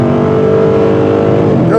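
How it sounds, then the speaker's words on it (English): A 2023 Dodge Challenger 392 SRT with a V8 engine accelerating on an open rural road, a loud, steady, deep engine roar that holds close and constant throughout, with a brief shift near the end. "Hear those nice sounds you don't get off a V6 engine,"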